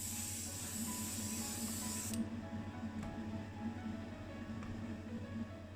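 Blue spray paint hissing steadily from a can or gun onto a Ford Anglia part, loud and close for about two seconds before the spray stops, leaving quieter workshop hum.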